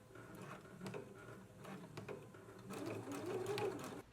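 A sewing machine runs steadily while stitching the shoulder seams of a garment, a continuous motorized whir with small speed changes, growing louder and busier toward the end, with no talk.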